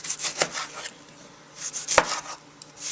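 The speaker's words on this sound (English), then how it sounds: "Tomato we'll just take and core it out, and then what we'll do is we'll do some wedges again." A kitchen knife cuts a cored tomato into wedges on a cutting board, a few close, crisp chopping knocks in two brief clusters with quiet pauses between.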